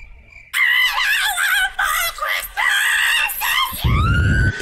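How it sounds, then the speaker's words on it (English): Toad from a Mario video game sings in a loud, high-pitched, warbling voice, a run of bright sung phrases up close, ending in a rougher, noisier outburst. "A singing toad."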